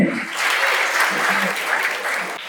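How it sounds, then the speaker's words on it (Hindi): An audience at a seminar marking Allama Iqbal's death anniversary claps steadily to welcome a woman invited to the stage, giving brief, even applause with a faint voice underneath. "ताली होनी चाहिए।"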